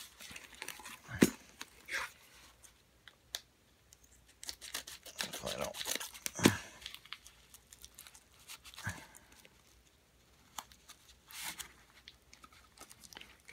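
Scissors cutting open a padded bubble mailer, several short crisp snips and tearing crinkles spread irregularly at close range, fairly quiet between bursts.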